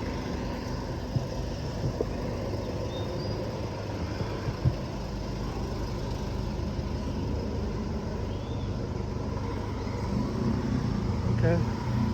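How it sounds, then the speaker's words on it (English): Cars pass on a narrow street in Bangkok's old Talad Noi neighborhood, a low steady traffic rumble with engine hum building toward the end, beneath scattered talk and small nearby knocks. "there's cars coming, so just hang around here."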